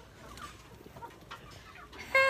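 Chickens clucking on a farm alongside pigs and ducks, soft scattered clucks close by, ending in a louder drawn-out crow or squawk.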